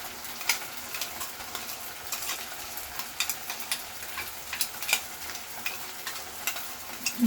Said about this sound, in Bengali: দিয়ে এইভাবে নাড়িয়ে নিতে হবে খুব তাড়াতাড়ি করে, যাতে মশলাটা পুড়ে না যায়